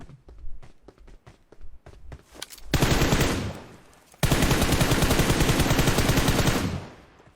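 In a video game, a string of quick separate gunshots cracks out before two long bursts of loud, rapid automatic fire hammer at a car and then cut off.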